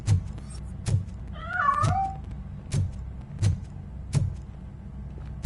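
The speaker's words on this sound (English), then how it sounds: "That cat must be hiding inside." A single short meow sounds briefly amid regular dull thumps, somewhat muffled and not very loud.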